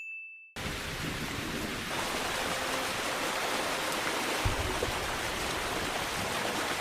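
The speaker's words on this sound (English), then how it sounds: "this time the rain is causing even more flooding than before" Heavy rain and rushing floodwater in a One Piece anime scene, a dense steady roar of downpour and streaming water after a brief silent opening, loud and continuous throughout.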